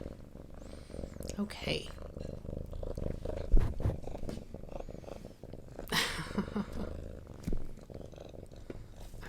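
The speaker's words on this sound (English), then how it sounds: "I'm sure that purr is very loud since he is right by the microphone" A pet cat purrs right beside the microphone during a candle melting-basket display in a living area, a steady close rumble running under a person's soft talk.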